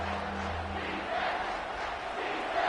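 Home crowd at a college football game against Notre Dame roars loudly as the defense tries to get off the field on third down, a dense, sustained cheer that swells slightly without pause.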